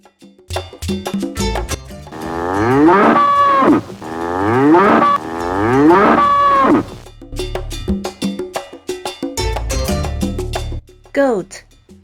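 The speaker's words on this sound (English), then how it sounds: "Bull." A bull bellows in two long, loud, drawn-out moos close by, with a cowbell clanking and shorter farm sounds around them.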